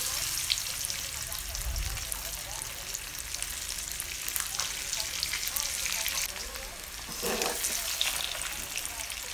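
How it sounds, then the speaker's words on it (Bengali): Eggs fry in hot oil seasoned with turmeric, giving a continuous close crackling sizzle with occasional sharper pops, while a voice speaks faintly in the background. "তারপর ডিমগুলোকে ভালো করে ভেজে নেব।"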